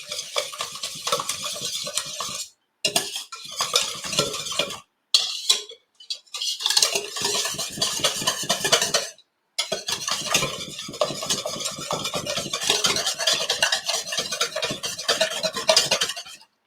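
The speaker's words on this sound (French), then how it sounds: "Et maintenant je dois mélanger" A spoon stirs lemon cake batter in a bowl, producing close, rapid scraping and clinking strokes in bursts with a few short pauses.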